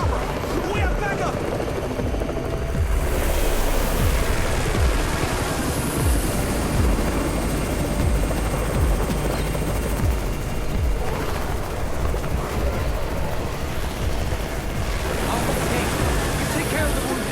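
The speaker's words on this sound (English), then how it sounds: "It's the Raven's chopper! We have backup!" A helicopter arrives in the zombie survival game Undawn, its rotor thumping loud and continuous beneath a dense rumble of battle noise, with gunfire-like cracks and voices mixed in.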